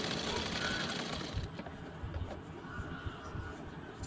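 A sewing machine stitching the neckline fabric of a lined blouse, running fast and steadily for a moment before dropping to softer, uneven stitching at low volume.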